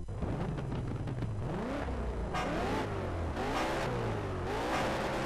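A race car engine in the video game Need for Speed Shift revs and shifts through gears continuously, rising and falling pitch sweeps from a loud, close engine note without talk.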